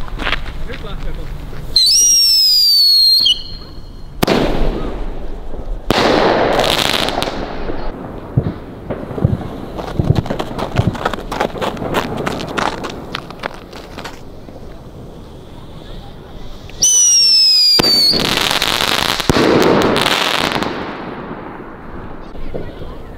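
Firework rockets at a Finnish New Year celebration launch with rising whistles and burst into loud, crackling explosions, two main launches about fifteen seconds apart with scattered bangs and crackles between, outdoors and close by.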